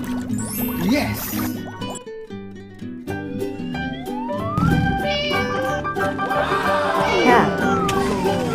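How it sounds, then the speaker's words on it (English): A cartoon cat meows over busy animated music and sound effects, with sliding siren-like tones, bright chimes and a thick layered mix throughout. "cat"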